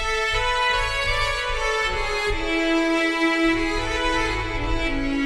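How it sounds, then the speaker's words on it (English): A stock Morphing Ensemble classic cello patch plays a lush, sustained counter melody with rich layered tones and a deep low pulse underneath, smooth and continuous with no talking. "this is such a beautiful quality sounding instrument, and it's called Morphing Ensemble"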